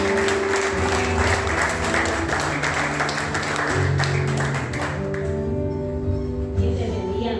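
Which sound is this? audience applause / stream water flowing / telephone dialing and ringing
audience applause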